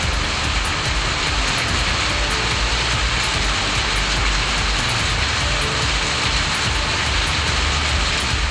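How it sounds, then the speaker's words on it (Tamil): Heavy rain pours steadily in Yercaud, Salem district, Tamil Nadu, a loud, dense, unbroken hiss of rainfall with no voices. "சேலம் மாவட்டம் ஏற்காட்டில் சுமார் 2 மணி நேரம் விட்டுவிட்டு கனமழை கொட்டி தீர்த்தது."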